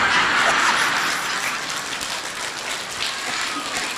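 An audience at a Buddhist dharma talk claps along in dense, continuous applause that sounds fairly close and loud and fades slightly toward the end.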